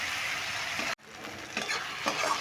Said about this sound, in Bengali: মশলাটা কিন্তু খুব ভালো করে কষিয়ে নিতে হবে